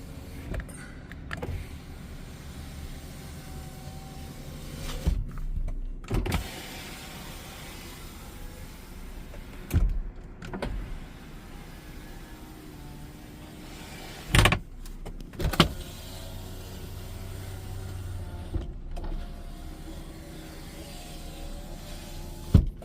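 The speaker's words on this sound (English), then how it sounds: "all four windows go up and down, and you'll notice they not only go up and down, but there's no hesitation or shudder in any of the travel" The power windows of a Cadillac SRX in good condition run up and down several times in a row, each pass a smooth motor whir that ends in a soft thud, quiet and close inside the car.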